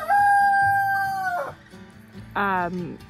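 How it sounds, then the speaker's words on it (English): A rooster crows loudly and close by in a farm chicken yard with a long, drawn-out call, then a second shorter crow follows, with soft clucking underneath. "We're over here in the chicken yard and the chickens are definitely considered livestock on this farm."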